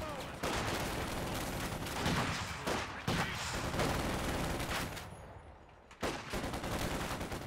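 Machine guns rattle in a Company of Heroes 2 real-time strategy battle, with dense bursts of rapid gunfire and scattered shots in a continuous loud din, broken by brief drops.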